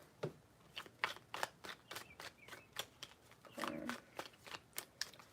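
Tarot cards are shuffled by hand in a series of crisp, sharp riffling snaps at an uneven rhythm, close and fairly soft, with a brief murmur of voice partway through.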